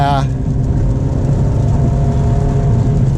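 A 2022 Cadillac CT4-V Blackwing with a manual transmission accelerating on a wet road in terrible weather. Its engine drones steadily for a few seconds from inside the cabin, with a brief rising whine at the start.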